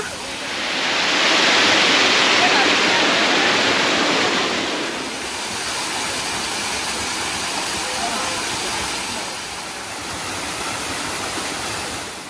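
A valley stream with no tree shade flows steadily in a broad, close rushing wash, louder for the first few seconds and then settling to an even, slightly softer roar.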